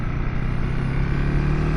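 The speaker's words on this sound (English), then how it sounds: "when you hear those higher revs" A KTM 390 Adventure R motorcycle engine drones steadily at high revs, a loud, close, buzzing tone rising slightly in pitch without pause.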